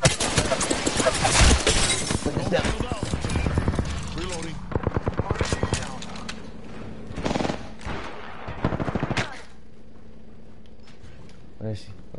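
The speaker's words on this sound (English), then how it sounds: "I'm taking fire." Rapid gunfire in the battle royale video game Apex Legends crackles in dense bursts and short rattling strings, loud and close, with a player's voice talking over parts of the action.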